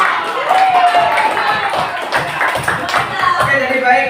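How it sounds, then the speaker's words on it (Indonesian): A classroom of students claps together after a religious studies lesson, a dense patter of hand claps with chatter and voices mixed in throughout. "Tepuk tangan untuk kita semua."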